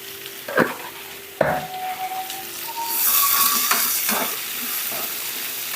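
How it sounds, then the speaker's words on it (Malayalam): Onions with a pinch of salt sautéing in a pan, a steady soft sizzle with a few spoon clinks and scrapes against the pan, close and moderately loud, no talking. "സവാള നമുക്ക് വാടാൻ വേണ്ടി ശകല ഉപ്പിട്ട് കൊടുക്കാം"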